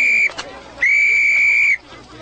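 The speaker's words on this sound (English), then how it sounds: "that ain't a police whistle. It's a sporting whistle." Two shrill, sustained blasts of a sporting whistle in a street setting from a stage production of Pygmalion, a short toot followed by a longer held blast of about a second, loud and close.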